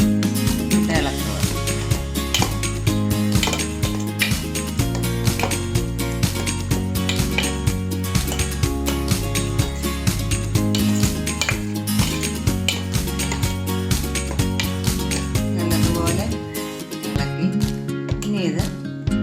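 A metal spoon scrapes and clinks against a pot as raw mango pachadi with coconut and curd is stirred off the heat, quick rhythmic clatter close up that runs continuously and loudly.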